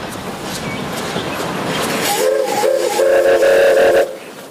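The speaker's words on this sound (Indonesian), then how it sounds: "ternyata ini lokomotif kereta api" A toy train locomotive rumbles nearby, then a loud steam whistle blows in several short, rising blasts before cutting off.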